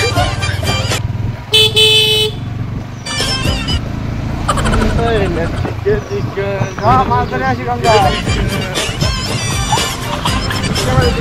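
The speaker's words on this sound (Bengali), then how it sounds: "দেখো আমার কাকা এখন গাড়ি চালাবে" A motor vehicle driving along a road on the way out to go fishing near a river, its engine hum steady and close, broken by horn toots and passing traffic, while people talk loudly over it.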